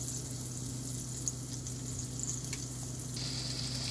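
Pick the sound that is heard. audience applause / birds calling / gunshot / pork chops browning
pork chops browning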